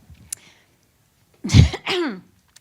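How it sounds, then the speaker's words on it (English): A single faint tap, then after a pause a harsh, close cough followed by a throat-clearing rasp, loud and near, coughed into a microphone to test it. "I'll just cough into the microphone to double check"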